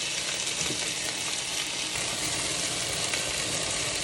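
Chicken pieces fry in a skillet with a dense, continuous crackling sizzle, steady and close, with no talking.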